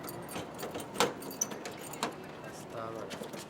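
A bunch of keys jangles in short metallic bursts at a door lock, close and fairly clear, while people talk over and around the rattling.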